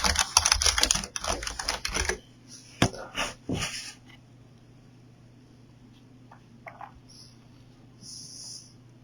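Rapid close bursts of key taps on a computer keyboard, a dense run of clicks for about two seconds, then a few scattered presses before going quiet.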